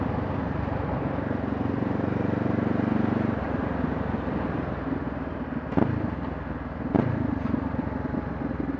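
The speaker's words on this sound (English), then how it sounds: "That exhaust note's nice." Steady low engine rumble from a Honda CBR 500 motorcycle exhaust, continuous and fairly close, with a couple of brief sharp knocks near the end.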